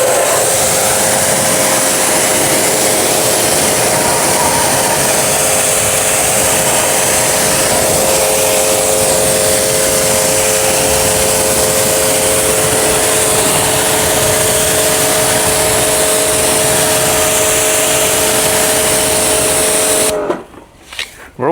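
A pressure washer rinses foam off car wheels, a loud, steady high-pressure spray that runs continuously for about twenty seconds, with a constant tonal whine from the pump underneath, then cuts off abruptly near the end.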